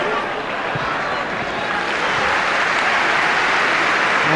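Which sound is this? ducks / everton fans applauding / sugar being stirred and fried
everton fans applauding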